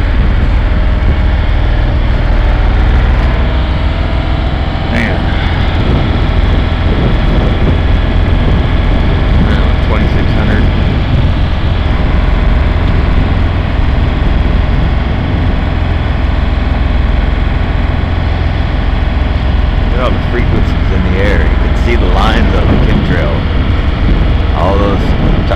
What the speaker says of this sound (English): I'm talking about the RPMs keep fluctuating. They go up, they go down